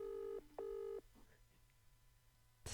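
A FaceTime call rings out on a phone, giving two steady electronic ring tones separated by a short gap, then quieter room sound with faint voices.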